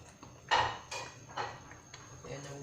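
Boiled meat stirred into okra soup in a pot, giving a few distinct clanks and scrapes of a spoon against the pot spread over a couple of seconds, close and moderately loud, with a faint voice nearby.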